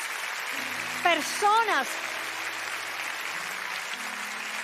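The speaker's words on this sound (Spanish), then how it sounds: "Y yo quiero que toda esta iglesia celebre y les dé un aplauso fuerte a todas estas" A church congregation claps steadily through the whole stretch, a broad wash of applause sitting under a voice speaking over it from up front.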